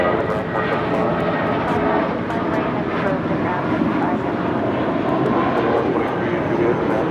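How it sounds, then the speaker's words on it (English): An Airbus A320 jet takes off from runway 25 right at LAX, a steady broadband engine roar holding strong throughout, with radio chatter and voices faintly underneath. "Ulatis 923 taking off to Zacatecas on an A320"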